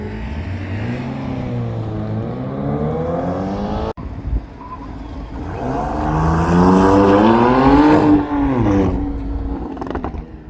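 A fast car accelerates hard through an autocross course at PIR in a BCA event. The engine note is loud and close, rising and falling through the gears, with a brief break partway through.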